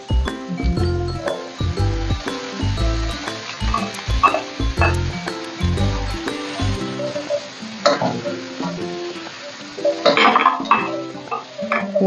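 Green beans stirred in a pan for lumpiang hubad with bean sprouts, with repeated scraping and clinking of a utensil against the pan and a steady sizzle underneath, loud and close, with no talk.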